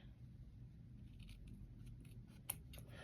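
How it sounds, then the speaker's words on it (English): Regular scissors cutting through ribbon, a faint close snip with one sharp crisp cut standing out against a quiet room hum. "So I just cut it at an angle."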